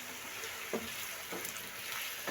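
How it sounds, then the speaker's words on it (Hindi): Finely chopped large onion frying in oil, a steady soft sizzle with faint stirring scrapes, quiet and continuous. "इसको हम फ्राई करेंगे लाइट ब्राउन होने तक"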